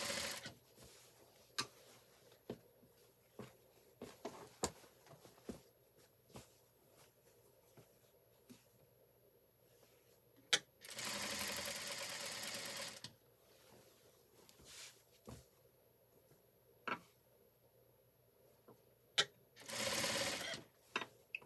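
A sewing machine stitches piping onto a shirt in two short, whirring bursts, one longer than the other, between quiet stretches of scattered clicks and handling of fabric.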